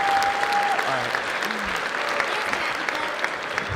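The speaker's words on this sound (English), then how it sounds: "everybody give a round of applause, at least for Serial and Seth from EQD" A convention panel audience applauds in a sustained, loud wash of many hands clapping, with brief voices and a short tone near the start.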